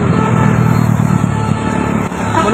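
A Barumun bus carrying Hajj pilgrims passes close by, a steady mid-pitched engine drone and road rumble filling the short moment with no voices.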